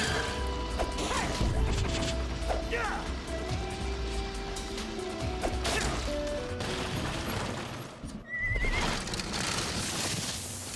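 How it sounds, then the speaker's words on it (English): Horse neighing in the Sonic and the Black Knight video game, a whinny rising out of a dense, loud game mix of crashes, clattering hooves, music and effects that runs throughout, with a brief dropout near the end. "that poor horse is probably dead right now"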